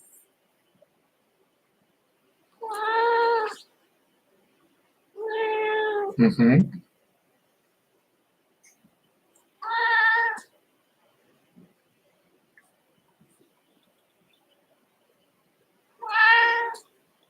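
A house cat meows four times at a relaxed, uneven pace, each cry close and clear in a quiet room, with a brief human murmur between the second meow and the next.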